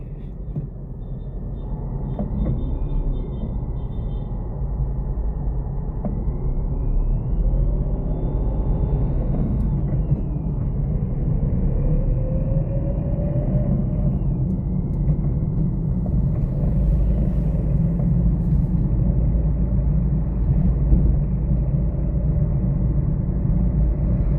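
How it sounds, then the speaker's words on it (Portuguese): Heavy city traffic streams steadily past in Aracaju, a dense, continuous low rumble of many cars with occasional engine whines rising and fading, no voices heard. "Caramba, quanto carro vindo dali."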